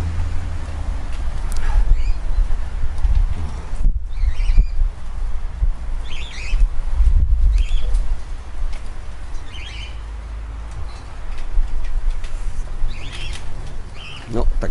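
Racing pigeons returning from a training flight circle in a flock overhead, with wing flapping and faint bird calls over heavy wind rumble outdoors, and a voice talking intermittently.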